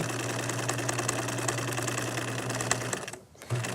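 A sewing machine running a short, tiny zigzag stitch at a half-length setting, a steady close mechanical whir with a constant hum that cuts off briefly near the end, then restarts.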